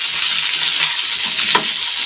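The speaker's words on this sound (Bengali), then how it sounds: "এখানে ফুলকপিটা ভাজা হচ্ছে" Cauliflower fries in a pan with turmeric and salt, giving a loud, steady hiss of sizzling oil, with one brief clink of stirring near the end.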